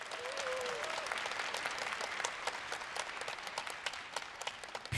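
Audience of students and parents at a televised college entrance exam briefing clapping to welcome the lecturers, a dense, even patter of many hands, faint and distant and sustained for the whole stretch.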